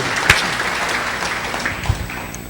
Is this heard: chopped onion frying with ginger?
no